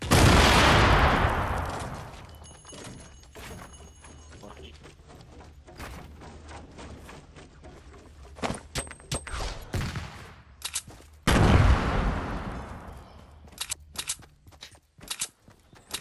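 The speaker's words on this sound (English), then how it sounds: "Stop throwing grenades at me, though." Grenade and gunfire blasts in Fortnite: heavy booming bursts at the start and near the end, with scattered sharp shots and clatter between, loud and close.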